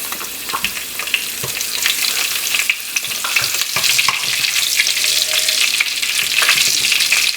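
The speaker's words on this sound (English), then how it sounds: "When the oil is hot, just add the rest of the ingredients like mustard, cumin seeds and curry leaves to it." Mustard seeds, cumin seeds and curry leaves hit hot oil for a red fish curry and sizzle loudly up close, a continuous crackling fry dotted with sharp pops and spatters.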